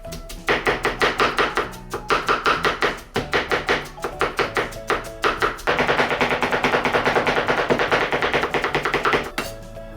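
Heavy kitchen knife chopping Chinese yam on a cutting board, dropped straight down in rapid rhythmic strikes, close and crisp, speeding into a denser steady run of chops, no talk.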